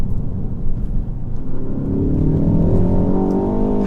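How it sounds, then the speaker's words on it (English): A tuned 410 PS Stage 2 Ford Focus ST Mk4 pulls hard in second gear in track mode, its engine note rising from a low rumble to a strong, climbing rev heard from inside the cabin. "just do a bit of an acceleration pull in track mode just to see what it's like"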